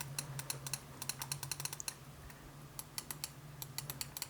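Button clicks from a small Darmoshark M5 Pro computer mouse with mechanical switches, a quick series of sharp, close clicks in uneven bursts with brief pauses, over a steady low hum and no talking.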